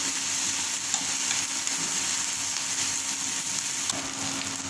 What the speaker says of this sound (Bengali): আদা রসুন দিয়ে ভালো করে কষিয়ে নেব।